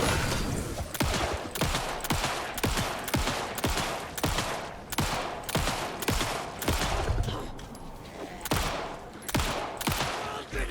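Gunfire in the video game Alan Wake 2, with a rapid series of loud, evenly spaced shots repeating steadily throughout, close and sharp.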